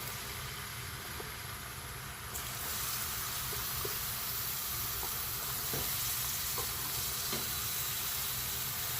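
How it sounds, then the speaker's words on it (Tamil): A large chopped onion hits hot oil in a pan for a spicy pepper chicken roast, a sudden loud hiss that settles into a steady, continuous sizzle with a few light clicks of stirring. "இப்போ நம்ம வெங்காயத்தை நாம் ஆட் பண்ணிடலாம்."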